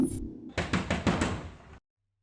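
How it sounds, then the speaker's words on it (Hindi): Someone raps on a door in a Hindi-dubbed South Indian love story film, a quick run of about five sharp, loud knocks close by, then silence. "क्यों बार बार दरवाजा खटखटा रहा है?"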